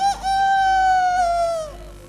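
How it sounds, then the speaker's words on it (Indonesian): A rooster gives a single loud, drawn-out crow that rises and then trails off, heard clearly on its own as part of a Javanese wayang shadow-puppet performance. "Saat itu pula terdengarlah suara ayam berkokok."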